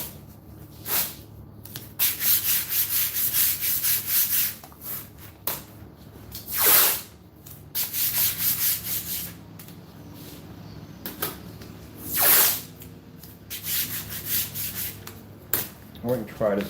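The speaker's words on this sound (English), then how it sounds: "if I wet the screen and I rub it, would that basically cause the screen to peel?" Damp cloth or fingers rubbing a wet phone screen protector, giving repeated gritty, scratchy strokes in uneven bursts, close and fairly loud.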